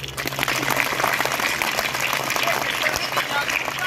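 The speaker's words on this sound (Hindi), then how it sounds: "सचिन के लिए तालियां हो जाए" An audience of schoolchildren and adults claps for a student at a school child-counseling event, a dense crackling round of applause with a voice talking over it.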